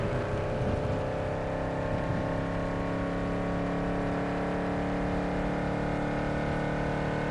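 A hypercar in Cyberpunk 2077 accelerates toward its top speed with a sustained, close engine whine. Dense harmonics climb slightly at first, then hold at a steady, loud pitch for several seconds.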